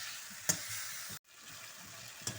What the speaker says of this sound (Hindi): मैं अच्छी तरह भूनूंगी चिकन को।